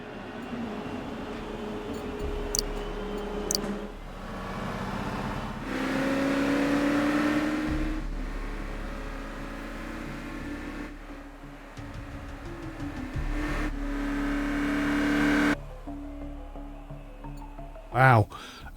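Race cars in a Gran Turismo 2 career-mode race whine and rev through repeated gear changes, their engine pitch rising and dropping across the run, with a loud burst near the end and talk underneath.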